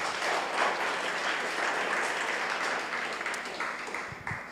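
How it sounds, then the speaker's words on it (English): An audience at a United Way of the Greater Triangle talk gives a sustained round of applause. The clapping is fairly even and moderately loud, then tapers slightly at the end. "I think they all deserve a round of applause"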